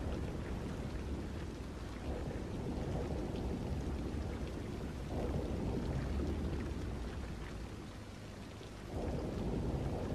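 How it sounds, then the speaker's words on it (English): Tsunami floodwater rushing through a city in Cities: Skylines, a steady broadband roar like heavy pouring water, loud and continuous with slow surges, no voices. "A tsunami has struck the city."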